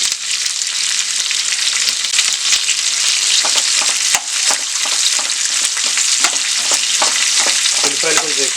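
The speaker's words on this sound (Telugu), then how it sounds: "సన్నగా కోసి పెట్టుకున్న ఉల్లిపాయలని కొంచెం నీట్గా ఫ్రై అయ్యేదాకా ఉంచుకోవాలి" Thinly sliced onions frying in a pan, a loud dense continuous sizzle close by, with light scraping stirs throughout and no talking.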